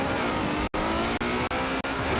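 A Ferrari of roughly 950 horsepower on road tyres, driven in the Forza Horizon video game, holds a loud, steady engine roar broken by three or four quick gear-shift dips, with no talking.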